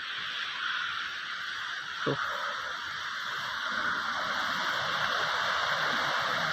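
Constant rushing roar of Thusharagiri waterfall, broad and steady, with a brief knock partway through and no voices.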